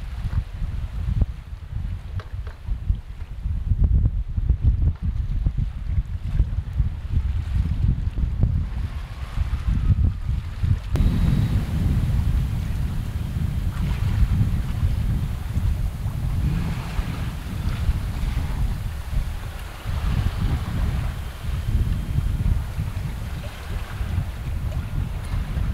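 Strong wind buffets the microphone aboard a sailboat out for test sailing in winds above 17 knots, a loud continuous roar with low rumbling gusts and water noise throughout, no voices.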